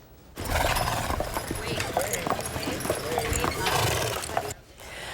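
Two horses pull a carriage at a local birthday outing, hooves clip-clopping steadily and close over a few seconds, with a whinny, under a reporter's voice and outdoor background noise.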